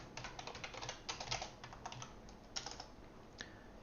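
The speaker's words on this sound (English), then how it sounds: "let's go ahead and begin typing" Rapid typing on a computer keyboard while writing code, a quick irregular run of light clicking keystrokes, close and fairly quiet, with no talking.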